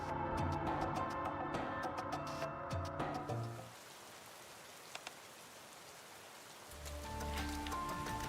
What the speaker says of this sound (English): Taking in the rain?